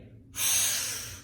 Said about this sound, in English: So after taking a deep breath in,